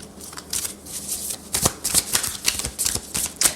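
A deck of tarot cards is riffled and cut in quick, close bursts of crisp papery flutters and snaps, each a short rustling run.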